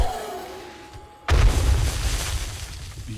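A single loud explosion in the 7 Days to Die survival game, bursting suddenly after a quiet stretch and rumbling on as a long decaying boom.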